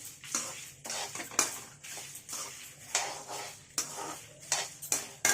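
Roasted gram dal being stirred in a pan on the stove: irregular metallic scrapes and clinks from the spoon against the pan, close and fairly quiet, with no talk.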